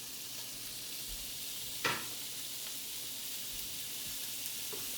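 Bacon pieces fry in a pan over low heat, giving a steady, soft sizzle throughout with one brief louder clatter partway in, and no one speaks.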